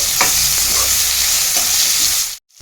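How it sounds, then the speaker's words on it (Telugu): Onion being stirred into a hot mixture with ginger-garlic paste in a pan for an elephant yam curry, giving a loud, continuous sizzle with spoon scrapes before it cuts off abruptly near the end. "సో ఒకసారి అలా మిక్స్ చేసేసుకొని దాంట్లోకి ఆనియన్ కూడా వేసుకొని మళ్ళీ కలుపుకోవాలి"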